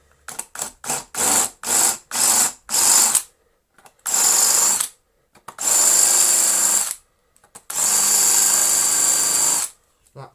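A power drill undoes screws on a Hotpoint Light'n'Easy washing machine. Loud, close bursts of whirring come first as several quick short pulses, then three longer runs separated by pauses.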